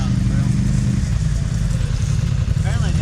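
A 72V YZ250 electric dirt bike, converted with a QS138 motor, is ridden on a private airstrip. Its motor gives a loud, low droning hum over rumbling wind and tire noise, with a brief rising whine near the end and faint voices.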